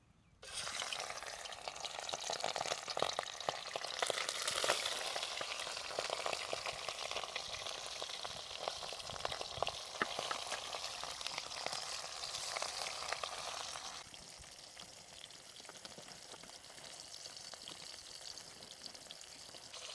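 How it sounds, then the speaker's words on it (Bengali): Rohu fish pieces fry in hot oil in a wok, a loud, close, crackling sizzle that runs on continuously and eases slightly toward the end. "আমার মাছগুলো ভাজা হয়ে গেছে, লাল লাল করে ভেজে নিয়েছি"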